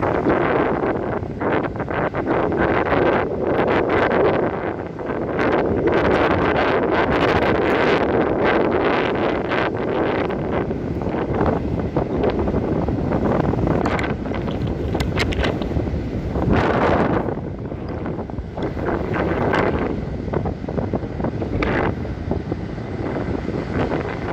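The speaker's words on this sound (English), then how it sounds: "The ocean is pretty rough now." Rough ocean surf crashes on Reynisfjara black sand beach in Iceland at low tide, a loud, continuous roar of breaking waves heavily mixed with gusting wind buffeting the microphone, with no talk.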